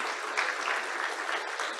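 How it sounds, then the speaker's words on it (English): Sustained applause from a gala audience honoring tribute recipients, a dense steady wash of clapping hands filling the room without a break. "I like everybody to applaud for them"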